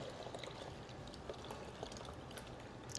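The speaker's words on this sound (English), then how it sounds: "We're going to just pour this directly into the machine." Thick homemade yogurt mixture is poured into a Cuisinart CYM-100 electronic yogurt maker, giving a steady, close, soft liquid pouring and trickling sound that continues alone throughout.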